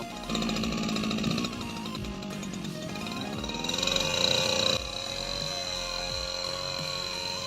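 A small engine-driven water pump, its engine taken from a grass trimmer, runs steadily in a cucumber field with a buzzing, rattling drone, its pitch shifting slightly midway, close and continuous throughout.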